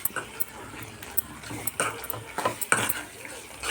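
Vangi bath rice being mixed in a metal vessel, with quick clattering scrapes and taps of a spoon against the pot, uneven and close, plus a few faint background noises.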